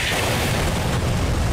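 A helicopter blowing apart in a Skibidi Toilet animation: a loud, continuous roar of explosion with rumbling low end, filling the whole short moment with no speech.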